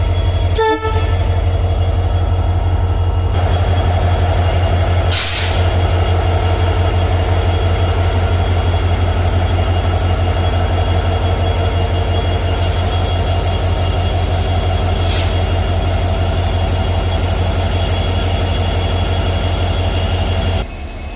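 A diesel train locomotive roars loudly and close by in a constant, throbbing drone, with a few short, sharp bursts rising over the engine noise.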